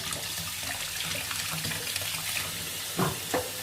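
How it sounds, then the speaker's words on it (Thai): Water runs steadily from a tap with a soft hiss while blackberries are washed, and a couple of brief splashes and clatters come near the end. "เปิดน้ำไหล ล้างล้างอีกเนาะ"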